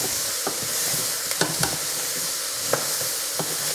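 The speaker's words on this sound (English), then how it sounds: "Let's give those a stir around." Vegetables and garlic sizzle steadily in a hot pan with a constant frying hiss, broken by a few soft scrapes and taps of a utensil stirring them around; no one talks.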